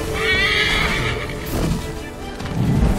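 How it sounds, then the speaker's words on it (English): A horse whinnies loudly up close, followed by hoof clip-clops and thudding footfalls in the video game Assassin's Creed III. "I can't seem to get my horse to go fast."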